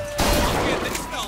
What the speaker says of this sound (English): Grab a shotgun and go to work.